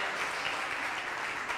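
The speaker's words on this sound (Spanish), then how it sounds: "El aplauso para Axel Kuchevaski, presidente de la Academia" A steady wash of applause fills the hall from an audience at the Premios SUR 2017 awards ceremony, dense and continuous with no gaps.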